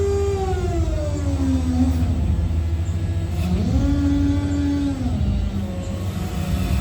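The pump of an XCMG XC968 battery-electric wheel loader runs with a steady mechanical hum and a whining tone that rises and falls in pitch, continuous and fairly loud close by.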